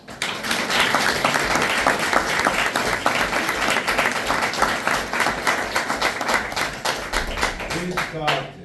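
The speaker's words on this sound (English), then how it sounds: "So all of you have to give a hand of applause to Mehajiri." An audience at a celebration applauds steadily for several seconds, dense and fairly loud, tapering slightly near the end as a voice begins.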